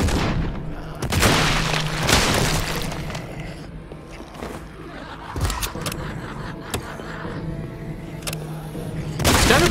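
A railgun blast in Project Warlock 2 goes off among other booming weapon fire and explosions, with a strong hit near the start and more punchy shots scattered through, ending on another loud burst.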